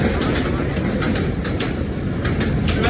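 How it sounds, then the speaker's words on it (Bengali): Train crossing a bridge close by, loud continuous rumble with steady rhythmic clickety-clack of wheels over rail joints throughout. "এই যে ট্রেন আসতেছে বর্তমানে"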